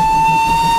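SE&CR H Class steam locomotive whistle giving one steady, high, piercing blast that holds unbroken for under a second, loud and close.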